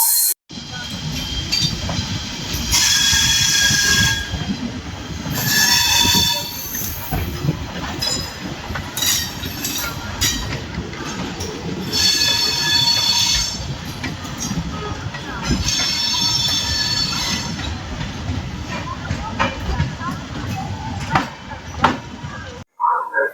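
The Cholan Express rolls into Tiruchirappalli Junction with a loud, continuous rumble of wheels, rhythmic clatter over rail joints and occasional metallic squeals and clinks, with voices faintly present amid the noise.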